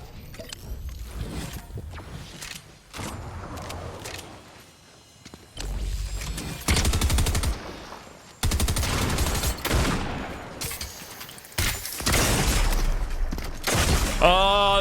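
Submachine gun fire in a video game, sustained loud automatic bursts broken by short gaps, close and punchy, with crashing impacts and mechanical clatter mixed in.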